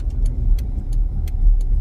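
A car cruising along with its engine running, a steady low rumble close and loud inside the cabin, with faint periodic ticks over the drone and no talk.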